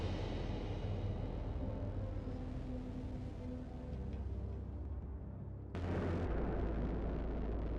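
Predator missile in a video game, a long, low, rumbling roar of the piloted missile that ends in a sudden, loud, booming explosion near the end, with no speech.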